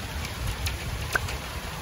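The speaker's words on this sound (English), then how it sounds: "It was sunny, it was cloudy, it's raining now." Rain falls outdoors in Toronto, a steady soft patter of drops on surfaces with a few sharper individual drips, heard alone at a moderate distance.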